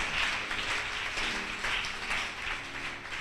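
A church congregation applauds God during a French-language sermon, a steady wash of many hands clapping that swells and eases in waves, filling the room without any voices over it.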